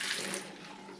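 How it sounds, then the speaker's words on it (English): A methanol and lye mixture pours into a funnel as a brief, soft, steady trickle of liquid, close and faint. "I'm going to take my methanol that's been mixed up, methanol with lye soap, and I'm just going to pour it in here"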